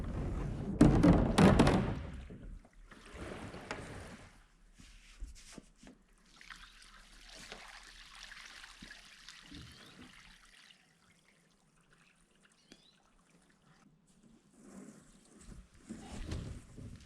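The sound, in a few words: water poured out of a water storage tank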